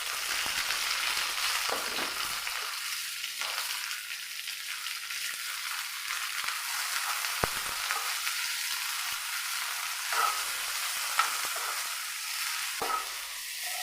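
Tomato, onion, green chilli, garlic and ginger fry in coconut oil with a steady close sizzle, broken by a few sharp clinks and stirring scrapes, and no talking.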